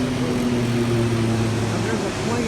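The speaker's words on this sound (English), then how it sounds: "Now there's a plane that just came over." A plane passes overhead near Tatung University in Taipei, a steady low engine drone that fills the background while someone talks.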